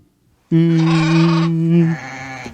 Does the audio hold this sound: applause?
no